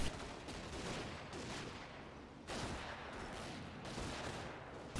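Machine gun fire in a World War II strategy video game, rapid bursts of gunfire and distant battle rumble at moderate loudness, with no talking.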